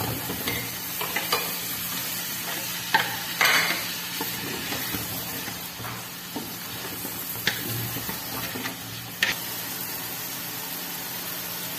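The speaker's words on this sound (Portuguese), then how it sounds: "vamos deixar dar uma fritadinha leve nessa cebola" Onions sizzling in a pan, a continuous frying hiss broken by occasional scrapes and clinks of stirring against the metal.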